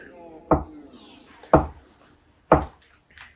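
Boiled eggs are chopped for egg salad, three firm knife strokes at roughly one-second intervals against a cutting board, close and distinct, with soft faint sounds in between.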